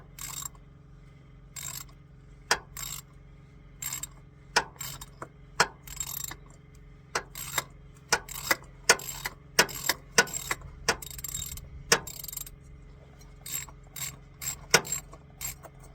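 A socket ratchet loosens the oil filter housing on a 2010 Toyota Prius. Close, crisp clicking comes in irregular bursts of quick pawl ticks throughout, with no talking.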